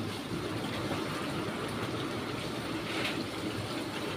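Typhoon wind and heavy rain roar as a dense, continuous wash of noise, loud and steady throughout with no voices.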